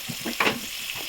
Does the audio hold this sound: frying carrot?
yes